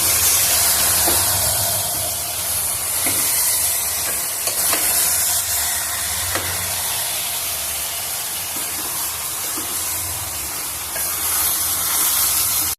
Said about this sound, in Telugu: ఇంత బాగా కలబెట్టినాను మంటను మీడియంలో ఉంచి ఉడికించుకున్నాము